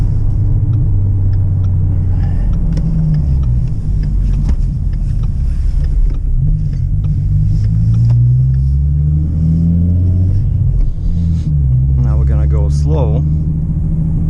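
A heavy Oshkosh M1070 truck's engine rumbles loudly and close, rising and falling as it drives by in traffic, with talk over the roar.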